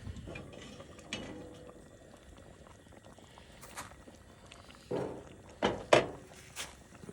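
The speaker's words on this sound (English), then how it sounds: "Let's check on it and give it a little stir." A spoon stirring Guinness beef stew in a metal camping pot outdoors, heard as soft scraping and a few sharp clanks near the end, low against a quiet background.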